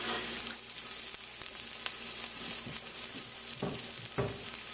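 Onions sweating in olive oil in a small pan give a steady, close sizzle with a few stirring scrapes, and no voices are present.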